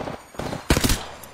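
Gunfire in the video game Apex Legends, a short close burst of rapid automatic shots.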